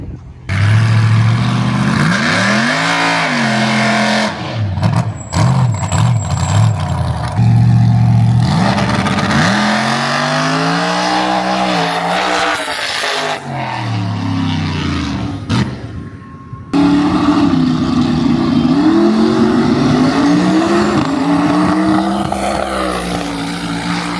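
A rear-wheel-drive race car engine revs loudly and continuously, with rapid stuttering cuts and surges as traction control trims power, rising and falling as it passes, at Freedom Factory.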